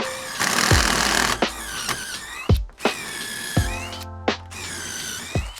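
A power drill bores pocket holes into 23.5-inch wooden pieces for a DIY solar panel mount, loud close whining bursts that spin up and cut off several times with short pauses between.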